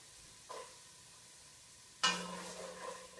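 Ginger, garlic and onion drop into a hot pan and start sautéing, with a soft clink first and then a sudden loud sizzle that keeps going in a quiet kitchen.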